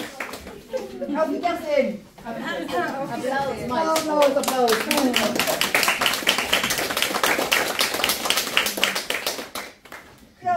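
Audience at a Christmas party for a senior welfare group claps after a comic stage act, steady dense clapping building from about four seconds and running loud to the end, preceded by a short burst of talk and laughter-like voices.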